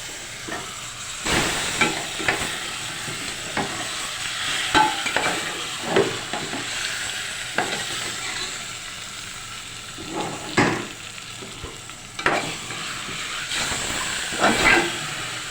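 Chicken leg pieces coated in masala fry in a pan with a steady hiss and sizzle, broken by repeated sharper bursts and stirring scrapes as the pieces are moved, close and moderately loud, with no talking.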